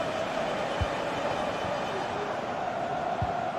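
Stadium crowd in an eFootball match, a steady, broad roar of massed voices holding at an even level throughout, with two brief low thumps standing out beneath it.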